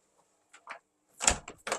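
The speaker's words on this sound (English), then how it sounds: "Let me just shut the door" A door is pushed shut against a draft in a home kitchen. Faint soft knocks lead into one firm, close thud with a short rattling tail, heard alone.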